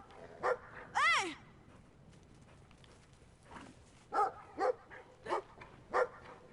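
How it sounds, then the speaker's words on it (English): A heavy dog in the video game Brothers gives a yelping whimper followed by a string of sharp, close barks spaced about half a second apart, with faint game ambience underneath. "what are they feeding this animal? Seriously, that is an obese dog."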